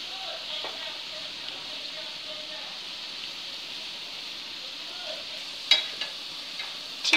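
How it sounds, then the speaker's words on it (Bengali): French fries frying in hot oil hold a steady, moderate hiss throughout, broken by a few sharp clicks of a utensil near the end. "তেল গরম করে এগুলো দিয়ে ভাজতে থাকবেন।"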